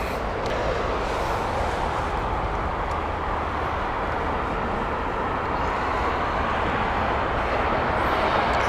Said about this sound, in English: Saudi next. This is the 777-300 inbound